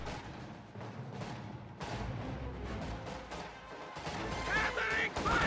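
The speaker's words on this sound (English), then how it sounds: "Contact! Small arms!" Small arms gunfire in a war video game, a dense crackle of shots and impacts running throughout at moderate loudness, with voices briefly audible near the end.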